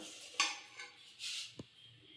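Rice flour being stirred as it dry-roasts in a pan for kozhukattai, with a few soft scraping strokes and clinks of a spoon against the pan, quiet and close.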